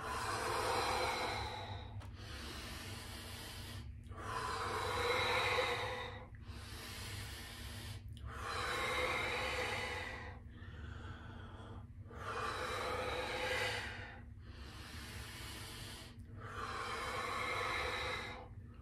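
Slow, deep breaths during a back-strengthening exercise, with long broadband inhales and exhales alternating in a steady rhythm of about eight cycles, close and clear with no talking over them.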